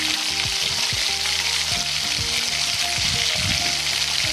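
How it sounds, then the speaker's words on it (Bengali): Marinated chicken sizzling in a hot pan while being stirred for biryani, a loud, steady hiss of frying with occasional scraping and bubbling bursts throughout. "এবার আমি ম্যারিনেট করা চিকেনগুলো একটু কষিয়ে নেব"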